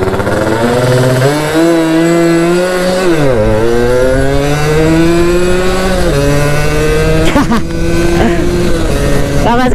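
A vehicle engine revs hard and steadily with its pitch rising and sagging while the clutch plate slips, a loud continuous drone with a brief rattling burst near the end.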